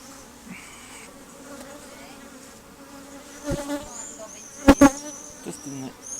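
Honey bees buzzing around an open hive during an inspection, a low hum with scattered louder passes and a couple of sharp close bursts near the end.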